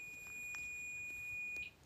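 An electronic alarm-like ringing inside a house, faint, with a few soft repeated beeps over a thin steady tone and quiet room hiss.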